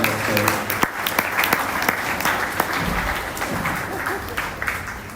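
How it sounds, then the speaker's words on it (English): Sustained clapping from an audience at a Nairobi gathering greeting an arriving guest, thick and even throughout with scattered louder claps and murmured voices underneath. "Please, let's give him a round of applause as he arrives."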